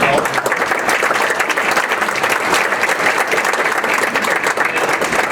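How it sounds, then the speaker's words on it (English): An audience at a construction sector breakfast applauds foundation director Shelly Nemec, with a steady, full wash of many hands clapping together throughout, fairly loud and even. "I would please help me give her a round of applause."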